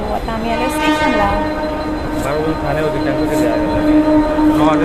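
Train pulling into a railway station near Dadar, loud and close, with a steady rumble of wheels and carriages and a horn sounding, while people talk over it.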